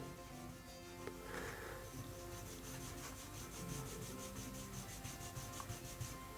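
A hand steadily rubs oil finish into a walnut knife handle, making a soft, continuous close-up friction hiss with no speech.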